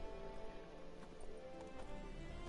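Horse hooves clip-clopping at a steady pace in The Witcher 3 video game, a continuous rhythmic patter under ambient game sound throughout.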